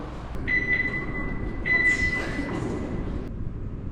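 Subway train in Barcelona: a loud rumbling metro car with steady wheel roar and two long high-pitched squeals from the wheels or brakes, heard up close without talking.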